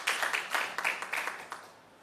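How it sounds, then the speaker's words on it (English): A health research conference audience gives a short round of applause, a handful of loose, uneven claps that quickly taper off into quiet. "Can we give him a round of applause"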